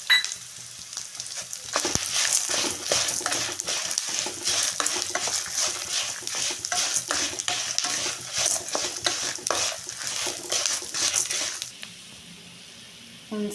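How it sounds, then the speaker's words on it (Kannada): Dried chillies, cumin and pepper fry in a hot pan, a steady close sizzle broken by dense, rapid scraping stirs and clinks of the spices against the metal, with no talk. "ಇದೇ ಬಿಸಿನಲ್ಲಿ ಎಲ್ಲ ನೋಡಿ ನೀಟಾಗಿ ಫ್ರೈ ಆಗಿದೆ"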